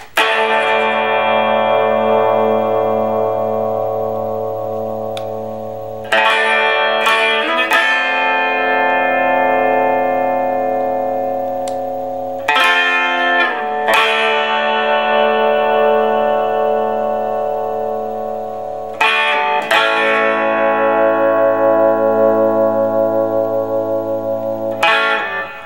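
Gibson ES-339 electric guitar chords ring out with long sustain, each strum decaying slowly over several seconds before the next, with a clean but slightly effected, reverberant tone and no talking.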